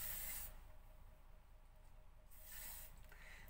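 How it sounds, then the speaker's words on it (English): Glossy Shine Mist hair spray hisses in two bursts from a nearby pump bottle, one at the start and another a couple of seconds later, with quiet room tone in between. "I've got the Glossy Shine Mist. This makes your hair all nice and shiny."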